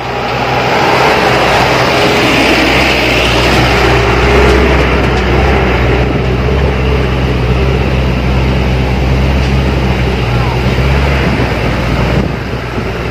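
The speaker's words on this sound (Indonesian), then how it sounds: "Tampak roda 6 naik di jalur ekstrim rekan." A six-wheeled truck climbing a steep, extreme incline, its engine droning loud and steady with a heavy low rumble that holds throughout, close by and without pauses.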